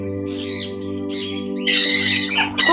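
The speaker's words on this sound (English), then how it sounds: "So you're here at the aviary where different types of birds from all around the country." Birds squawk in an aviary: several loud, harsh calls come in separate bursts over a steady low mechanical hum, close to the listener, with no talking.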